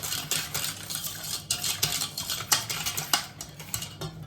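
Whisk stirring flour, cornstarch, sugar and milk in a bowl for a lemon tart filling, rapid rhythmic scraping and tapping against the bowl, close and alone without talk.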